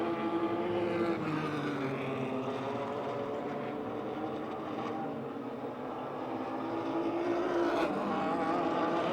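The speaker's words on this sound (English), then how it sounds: "pulling to the outside of Hawkins out of turn 4" Race cars lap the Motordrome Speedway oval during a July 30, 2010 race, their engines a steady, loud, close roar that swells and eases slightly as the pack passes, with no talking.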